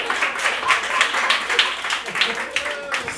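An audience at a pre-wedding comedy show claps and applauds, a dense close burst of many hands that swells and dips slightly but continues throughout, with no talk over it.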